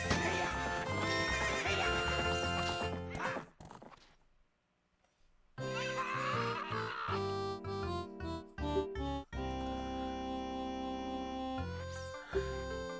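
Horse hooves galloping and a whinny in the video game Zelda: Ocarina of Time during a ranch horse race, loud game music and effects with rhythmic hoofbeats, a brief silent gap, then the galloping resumes.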